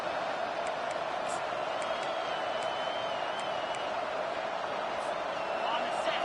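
A steady roar of a large stadium crowd fills a College Football 25 video game broadcast, a constant dense wash of cheering with faint higher whoops layered on top and no clear breaks.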